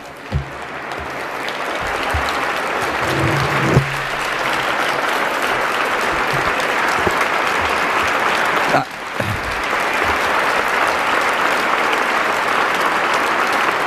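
Warm, sustained audience applause for journalist Seymour Hersh at an investigative journalism award event fills the room, loud and steady for the whole stretch, with a brief dip near the end before it swells again.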